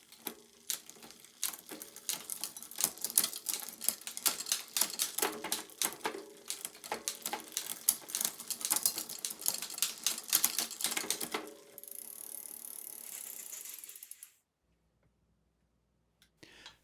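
A Shimano derailleur on a Bridgestone MB4 mountain bike shifts gears after cable tension adjustment, giving a quick run of crisp, close ticking clicks for about eleven seconds, then a steady whir that fades into near silence.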